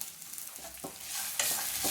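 Grated coconut roasting in a pan for peanut rice, with a soft sizzle and scraping stir strokes recurring every half second or so, close and fairly quiet.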